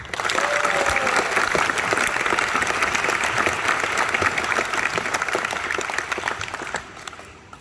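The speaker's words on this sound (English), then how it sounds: "So give them a warm round of applause" Sustained applause from a school concert audience greeting a beginner band at a Christmas concert, dense steady clapping that holds for several seconds and then begins to taper off near the end.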